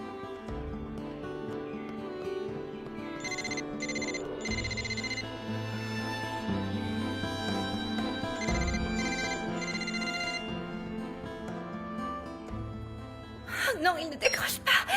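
Telephone ringing on unanswered in a dramatic series scene, a steady repeating electronic ring pattern under background music, ending with a gasp and speech.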